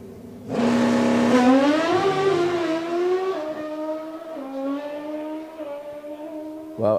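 A drag racing car launches off the start line with tyre chatter, its engine note rising loud and close, then holding a high sustained roar as it pulls away over several seconds, no voices.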